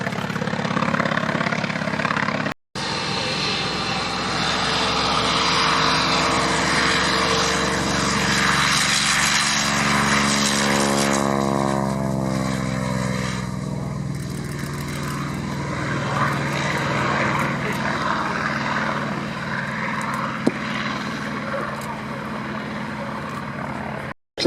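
Goodyear FG1D Corsair piston fighter flying past at a Fly Navy air show at Shuttleworth, a loud propeller engine drone whose pitch sweeps down as it passes, fading afterward.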